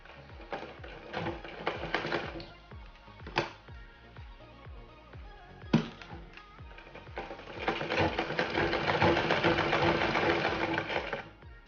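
Domestic sewing machine stitching cloth at a tailoring lesson, rapid rhythmic mechanical clatter in short bursts with pauses, then a longer steady run of stitching, close and clear with no talking.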